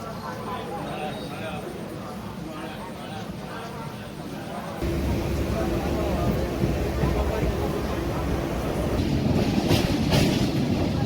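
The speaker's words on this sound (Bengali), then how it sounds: "আমাদের ট্রেন হচ্ছে একটা পনেরো জম্বু তাওয়াই এক্সপ্রেস" Rumbling rail noise from the Jammu Tawi Express at Parasnath station, growing louder and denser partway through, with steady clatter and faint voices in the background.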